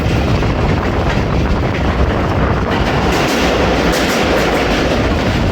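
The Hazara Express rolls across the Korang bridge in a continuous loud rumble with rhythmic clickety-clack of wheels on rail joints, heard close from aboard the train, with no talking.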